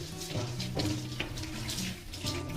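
A tap runs steadily into a sink, a continuous close splashing stream while combs are washed under it.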